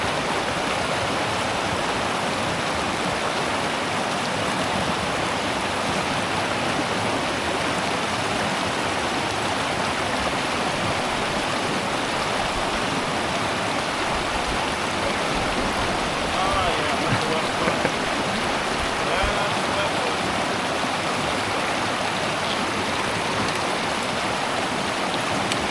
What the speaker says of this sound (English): And we have to cross this river here.